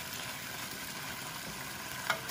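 Beef fries in a pan for Korean glass noodles, giving a steady, even sizzle that holds throughout, with one faint clink near the end and no talking.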